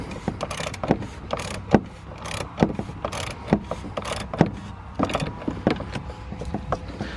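An oil filter on a 2015 Sprinter van with a 2.1L four-cylinder engine is tightened with a filter wrench, giving close, irregular mechanical clicks, scrapes and sharp taps spread through the whole stretch, with no talking.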